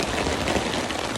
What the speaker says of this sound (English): Well, the rain finally caught up with us.